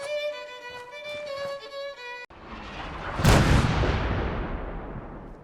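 Artillery fire in Fallout 4: a sustained musical tone cuts off into a deep boom, followed a second later by a loud, close blast whose rumbling roar slowly fades.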